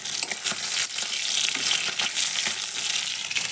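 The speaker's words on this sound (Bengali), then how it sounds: "আর এখানে মাছ ভাজা হচ্ছে" Fish fries in a pan with a loud, continuous close-up sizzle and crackling spatter, punctuated by occasional stirring scrapes, with no voices.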